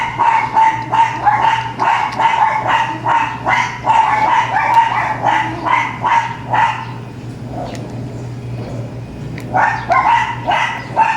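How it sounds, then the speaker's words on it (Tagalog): A pack of dogs barks outside in rapid, loud overlapping volleys, pausing briefly before resuming, close and dominant with a faint steady hum underneath. "Daming aso sa labas. Maingay."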